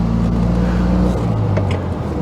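A small Fiat 126p Maluch car engine runs loud and buzzy, its pitch dropping partway through as the revs fall, heard close with no voices.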